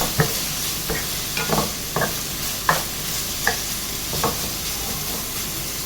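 Brown sugar mixture for a pineapple milk pudding is stirred in a hot pan, a constant frying sizzle broken by regular spoon scrapes roughly every half second, close and steady with no voices.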